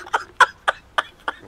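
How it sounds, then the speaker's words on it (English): A person outdoors coughs five times in an even, evenly spaced series, each cough short, sharp and close. "I cough, they go that way."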